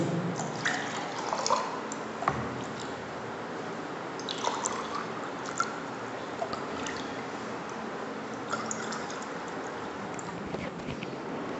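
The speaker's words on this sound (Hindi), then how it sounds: "अब इसको गिलास में निकालेंगे।" Lemon sharbat poured from a vessel into a glass gives a soft, continuous trickle with scattered drips, quiet and close, with no talking.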